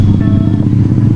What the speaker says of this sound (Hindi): बाइक चलाना थोड़ी सी मुश्किल हो रही है।